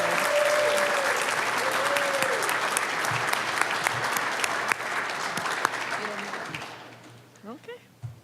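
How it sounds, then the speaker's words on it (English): A big round of applause from the audience at a GRCC medical assistant graduation ceremony, sustained crowd clapping with a voice speaking over it, fading out near the end. "One big round of applause"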